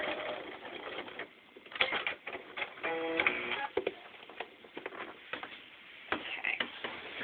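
A home sewing machine stitches a seam on a T-shirt quilt, its rapid mechanical ticking running in short bursts with brief pauses, close and fairly quiet.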